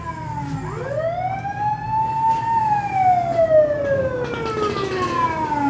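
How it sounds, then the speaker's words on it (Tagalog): A loud ambulance siren wails steadily nearby, its pitch rising then slowly falling, with traffic rumble underneath. "Ambulansya."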